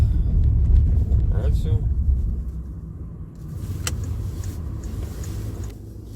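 A car drives on a road and then stops at a traffic light, with a low interior rumble that eases off and a few clicks and rattles inside the cabin.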